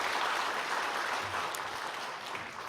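Church congregation applauding during a Sunday morning worship service after an infant blessing prayer; steady, moderately faint clapping from many hands that holds for a few seconds and tapers slightly.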